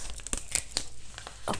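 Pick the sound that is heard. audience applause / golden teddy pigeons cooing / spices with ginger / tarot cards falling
tarot cards falling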